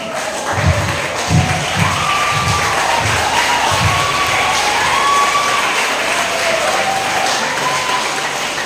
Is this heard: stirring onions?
no